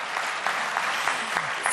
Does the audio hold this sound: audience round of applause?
yes